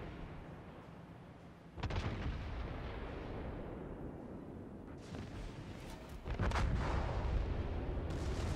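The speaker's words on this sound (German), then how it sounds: "Schüsse gehen raus." Heavy battleship guns firing during a World of Warships naval battle, two loud booming salvos a few seconds apart, each followed by a sustained rumbling roar over constant background noise.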